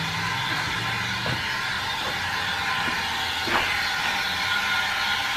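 An 1890s-style steam-powered gear cutting machine running with a full head of steam, giving a steady hissing, rumbling drone with a few soft mechanical clicks, continuous and close.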